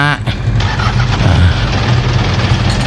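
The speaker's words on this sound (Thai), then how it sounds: "เป็นเครื่องยนต์4สูบเทอร์โบนะครับตัวนี้ขนาด115แรงม้า" A Mitsubishi Canter six-wheel dump truck with a 4-cylinder 115 hp turbo engine runs at idle, a steady close low rumble that holds evenly throughout.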